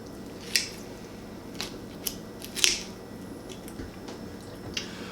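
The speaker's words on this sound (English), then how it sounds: "where the backbone attaches to the rib cage, and just start cutting through" Several sharp snips and crunches from kitchen shears cutting through a turkey's backbone, spaced irregularly over a quiet background.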